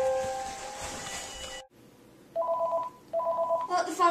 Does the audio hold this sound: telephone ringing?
yes